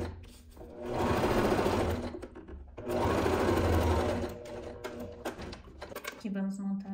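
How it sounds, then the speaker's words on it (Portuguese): Sewing machine stitching the side seams of a nylon bag, running in two loud, steady bursts of rapid mechanical whirring with a pause between, then quieter handling noises and a brief hum at the end. "Já costuro fechando essa parte aqui, as laterais."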